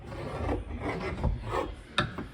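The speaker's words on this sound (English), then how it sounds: "just rubbing it where the lead is dull to a higher kind of polish here" Someone rubs the dull lead came of a traditional leaded light window to polish it, giving soft, uneven scrubbing strokes close by with a sharper scrape near the end and no talking.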